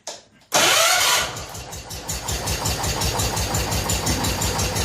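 A 1970 John Deere 140 H3 garden tractor, choked, cranks briefly and catches, then settles into a loud, close, rhythmic idle that keeps chugging evenly with no talk over it.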